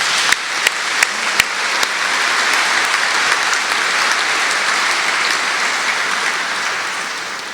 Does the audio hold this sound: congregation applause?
yes